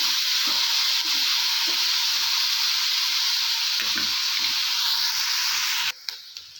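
Onions fry in a pan with a loud, continuous close hiss and crackle that holds steady for about six seconds, then cuts off abruptly, leaving faint clinks.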